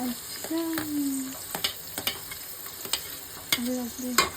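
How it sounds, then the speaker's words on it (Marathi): Onion frying and sizzling in a hot pan as it is stirred, with a steady hiss broken by sharp clinks and scrapes of a spatula against the pan, while a voice chimes in briefly. "आता आपण कांदा टाकून घेऊ."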